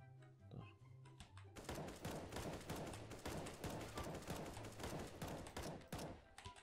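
Rapid gunfire in CS:GO's PUBG mode: after a brief quiet start, a dense, sustained stream of automatic shots rattles on for several seconds, with no talk.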